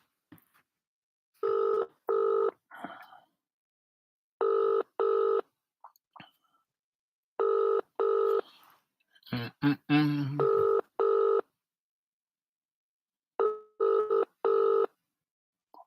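An outgoing phone call rings back in a clear, repeated double-tone pattern with silent gaps between pairs; someone talks briefly partway through.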